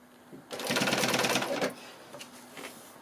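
A sewing machine stitches piping around a shaped fabric corner in a short, quick burst of rapid needle chatter, close and clear, then stops, leaving a few faint fabric-handling sounds.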